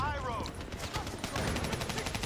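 Rapid gunfire from the Call of Duty: Black Ops 3 campaign, a dense, sustained volley of shots filling the whole stretch, with players' voices audible near the start.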